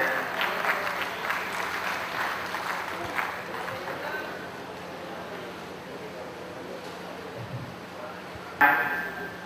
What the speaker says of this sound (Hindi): आप तालियों के साथ खड़े होकर के उनका स्वागत करें।